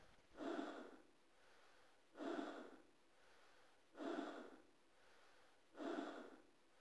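Slow, heavy breathing inside a spacesuit in a space video game, four evenly spaced raspy breaths about two seconds apart, close and alone with no talk.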